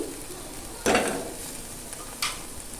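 Spiced masala with coriander and chili powder stirred in a pan, giving two short scraping, sizzling bursts, the first longer and louder, over a low background hiss.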